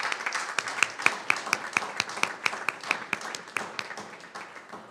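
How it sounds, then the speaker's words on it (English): Scattered clapping at a school board meeting honours schools ranked statewide in Texas, a small group's distinct, fairly quiet claps spaced across several seconds in the room. "let's give them a round of applause"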